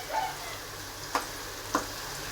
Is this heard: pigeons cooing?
no